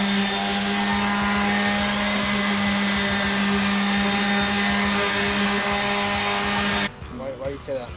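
A power tool cuts mounting templates for a fishing paddle board with a loud, steady, whining drone that runs continuously, then cuts off abruptly just before the end, leaving quieter handling noises.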